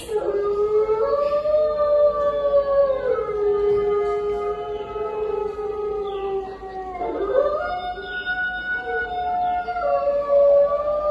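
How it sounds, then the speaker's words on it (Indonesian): A long, mournful wolf howl rising and holding steady, with a brief dip and a second sustained howl following, clear and unaccompanied. "Serigala melolong panjang di malam hari."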